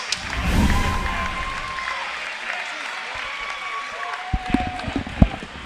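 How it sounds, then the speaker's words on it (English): A fight-event crowd applauds two fighters after a three-round bout, a steady wash of clapping and cheering that holds throughout, with a voice carrying over it and a few sharper thumps near the end. "how about a round of applause for these two great fighters going all 3 rounds?"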